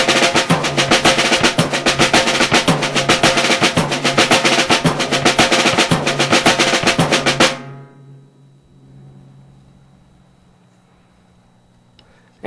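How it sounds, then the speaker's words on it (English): A drum kit plays a loud, driving Brazilian carnival samba groove with dense, steady strokes for about seven and a half seconds, then stops abruptly and rings out into a faint decay. "I'll go ahead and play 8 measures of Brazilian carnival samba"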